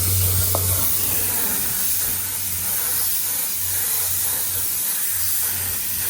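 A steady, airy hiss of a spray gun applying yellow coating runs throughout, with a low mechanical hum underneath.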